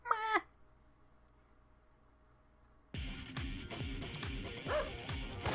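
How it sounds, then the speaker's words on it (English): Dogs attack in the Metal Saga video game, first a short yipping cry, then after a quiet pause a burst of repeated barking and snarling effects over a sudden loud battle sound, fairly close and punchy. "You just got shot by a dog!"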